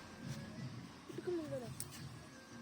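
A bird coos faintly twice in the background, soft low calls under a quiet hiss, with a brief chirp near the end.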